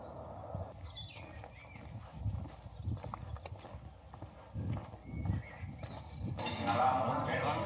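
A horse walks along a roadside on the Camino del Norte, its hooves clopping unevenly nearby, with people talking softly over it and birds faintly in the background.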